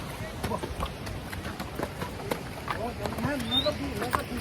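Horse hooves clip-clop along a rough mountain trail near Pahalgam, Kashmir, a steady walking rhythm of uneven thuds close by, mixed with breathing, ambient rustle and faint background voices.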